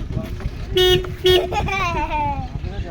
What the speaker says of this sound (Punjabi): ਹਾਰਨ ਮਾਰੀ ਜਾਂਦਾ